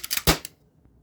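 An Umarex HDX68 CO2-powered airsoft pistol fires a few quick sharp pops, with one louder crack in the middle, then quiet.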